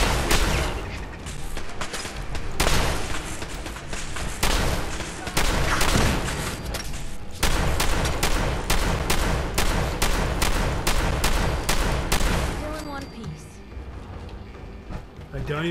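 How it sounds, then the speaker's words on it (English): Sustained gunfire in the video game Fallout 4: dense, rapid shots and heavy blasts pound almost without pause, loud and close, with brief breaks and a rumbling tail near the end. "Shoot them all away."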